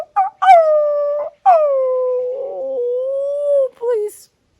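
A voice imitates a coyote howling, two long drawn-out wavering howls, loud and close, with a brief yip at the end.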